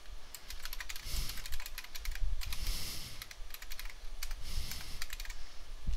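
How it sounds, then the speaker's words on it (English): Someone types a command on a computer keyboard in a Fedora 22 Linux terminal, a steady run of close, crisp key clicks with brief pauses and no talking. "you'd type something akin to this in"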